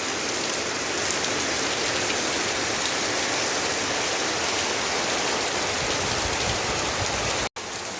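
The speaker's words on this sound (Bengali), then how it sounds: "এত জোর বৃষ্টি আরম্ভ হয়েছে" Heavy rain pours down steadily, a dense, loud, continuous hiss of drops striking surfaces close by.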